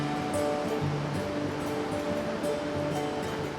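Water pouring through an old timber-pile dam on the Green River, a steady broadband rush of surf-like flow with low rumble, continuous and fairly loud throughout with no voices.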